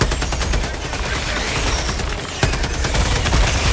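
Rapid, dense gunfire from the video game Helldivers 2, a steady barrage of overlapping shots with a sharper burst partway through, loud and continuous.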